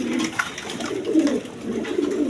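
Pigeons coo in soft, repeated low throaty phrases, close by and overlapping, with no talking.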